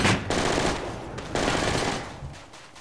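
Automatic gunfire in the Project Reality military shooter game, set on the Al Basrah map: loud, dense bursts of rifle and machine-gun fire crackle almost continuously, with a short lull, then a fresh burst and trailing shots.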